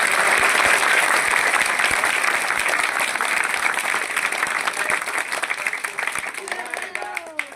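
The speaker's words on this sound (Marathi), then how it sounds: "आता आपण सर्वांनी प्रीतमबाई यांच्यासाठी एकदा टाळ्या वाजवायच्या." An audience claps loudly and steadily at a community event for schoolchildren, a dense sustained applause that gradually thins and becomes more scattered toward the end, with some crowd murmur mixed in.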